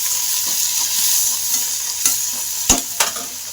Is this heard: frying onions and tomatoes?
yes